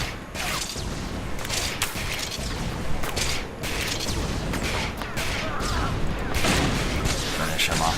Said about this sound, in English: Now she's just gonna blast her little embarrassing pistol.